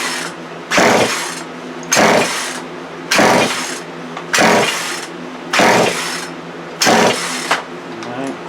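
Poulan Pro chainsaw refusing to start, six rhythmic pull-cord rips about one second apart, each a loud rasping burst with no engine catching.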